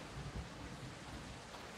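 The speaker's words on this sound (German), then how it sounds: "Da es jetzt gerade regnet." Rain falls in the survival video game Project Castaway as a steady, soft hiss of broadband patter with a faint low rumble underneath, quiet and continuous with no voices.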